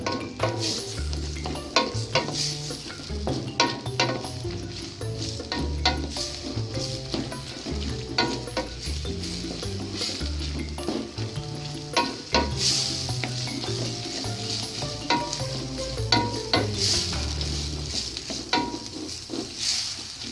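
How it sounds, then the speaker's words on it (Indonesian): Ingredients for zuppa soup sautéing in a pan until fragrant, with a continuous sizzle broken by frequent stirring and scraping clicks over about twenty seconds. "Kita tumis sampai harum."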